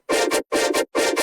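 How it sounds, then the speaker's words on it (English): Distorted, noisy synth layer from a bass music track: three short, harsh, buzzy bursts, each split into two quick pulses, evenly spaced in a tight repeating rhythm with silence between. "which was basically just a distorted, noisy sound"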